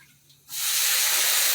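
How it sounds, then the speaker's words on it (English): Two cups of water poured into a hot cooking pan burst into a loud, steady hiss that starts abruptly and holds, filling the sound alone with no talk. "Hear that sizzle?"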